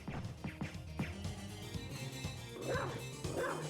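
A dog barks in the video game Castlevania: Symphony of the Night, a rapid string of short yapping barks followed by a couple of whimpering yips over faint game sounds.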